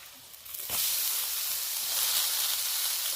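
Onions frying with turmeric, chili and cumin powder, a soft sizzle that jumps into a loud, steady hissing fry as the spices hit the hot oil, close and continuous.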